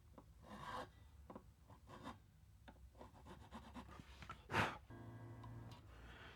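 A file rasping a guitar nut slot on a Mayones Duvell Elite during setup, giving short, quiet scraping strokes in bursts with pauses between them, close and faint, with no talk.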